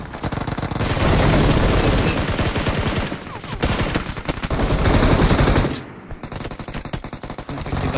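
Rapid automatic gunfire in the mobile battle royale game BGMI, loud bursts of sustained fire that stop briefly before more shots ring out near the end.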